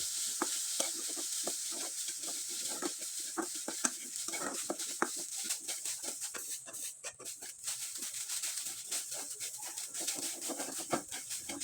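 Coconut and jaggery filling is stirred in a pan with a spoon, making repeated close scraping and rubbing strokes over a soft sizzle. The stirring is steady and clear, with no talking.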